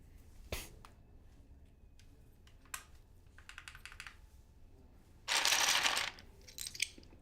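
Keys clack on a mechanical keyboard in scattered bursts of clicks, with a few sharper taps and a brief rustling noise.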